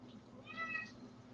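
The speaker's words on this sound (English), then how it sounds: "Hey, kitty cat." A cat meows once, a short faint mew in a quiet indoor room with low background hum.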